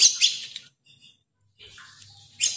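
Javan myna (jalak kebo) chick giving short, high, scratchy begging chirps in brief bursts, close and fairly quiet, separated by near-silent gaps.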